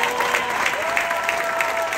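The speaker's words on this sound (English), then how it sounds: "Give them a round of applause and our winners" A cruise ship audience applauds game winners with steady, continuous clapping and light crowd noise throughout.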